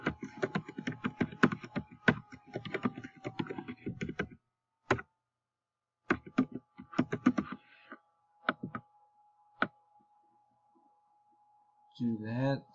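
Someone types a message on a computer keyboard in quick bursts of close key clicks separated by short pauses, with brief talking at the end.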